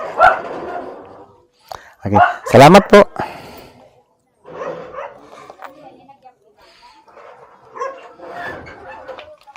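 A dog lets out a quick burst of sharp barks between stretches of people talking nearby.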